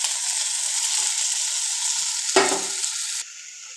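Onion, tomato, cinnamon and coconut sauté in a pan for mutton kuzhambu, a close hissing sizzle broken by one scraping stir before the sound drops away abruptly.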